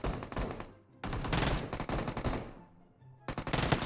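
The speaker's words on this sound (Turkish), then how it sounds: "Ulan Uzi'yle pırt pırt pırt pırt pırt pırt adamları darladık" An Uzi submachine gun in PUBG Mobile fires loud, close, rapid bursts: three sustained volleys separated by brief pauses.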